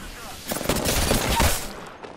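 Rapid bursts of gunfire from an Apex Legends firefight fill the clip, dense and loud with overlapping shots and impacts.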